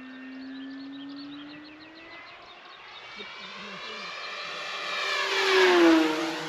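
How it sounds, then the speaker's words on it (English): An FW190 fighter makes a strafing run. A single engine drones with a rising and falling pitch as it sweeps past and swells louder toward the end, with no voices over it. "Straffing run from the left."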